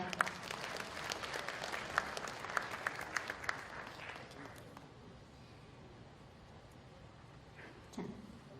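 Audience applause at a book launch, a faint room-wide clapping with a few sharper individual claps that fades out, followed by a soft thud near the end.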